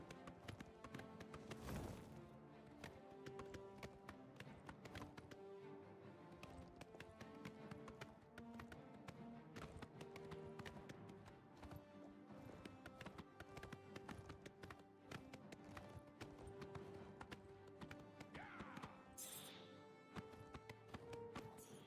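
Steady clip-clop of horse hooves trotting at an even pace in the video game Oblivion, layered under game music with tonal notes throughout.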